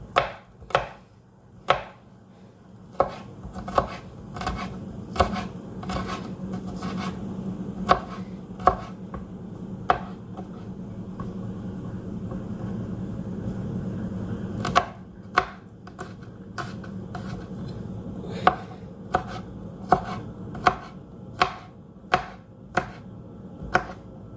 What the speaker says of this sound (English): a pretty simple, quick, easy way of mincing garlic